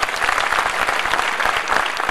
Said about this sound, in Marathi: या तरुणाच्या नावाने जोरात टाळ्या वाजवा.